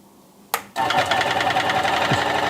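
A reconditioned $10 Dremel scroll saw fitted with a pinless blade cuts wood. A short sharp click is followed by the motor starting into a steady, close buzzing hum.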